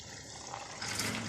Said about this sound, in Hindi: ये देखिए, अब मैं इसमें डालूँगी चने की दाल